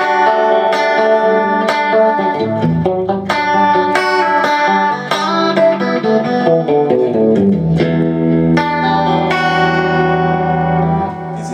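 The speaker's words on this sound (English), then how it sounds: "with some effect, plate reverb and flashback delay," Clean electric guitar chords through plate reverb, flashback delay and lo-fi delay pedals ring out with lush reverb and trailing delay echoes, notes blooming and decaying into a spacious wash.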